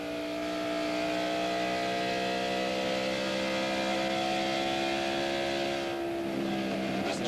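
A NASCAR stock car from the Wood Brothers team, heard onboard at speed around 8,100 RPM, gives a loud, steady, high-pitched engine drone that holds for several seconds before shifting slightly near the end, with no talk.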